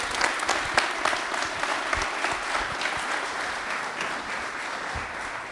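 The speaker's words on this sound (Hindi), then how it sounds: "चलिए एक बार तालियां आशीष झा के लिए जोरदार वाली होनी चाहिए" A studio audience at a Republic Day quiz show applauds steadily for a contestant, a dense and sustained clapping that keeps an even level throughout.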